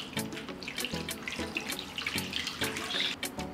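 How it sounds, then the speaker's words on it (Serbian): Tap water runs into a large pot lined with a cloth and holding glass jars, a steady close splashing and gurgling stream with no talk. "Naliću sa vodom do visine poklopca."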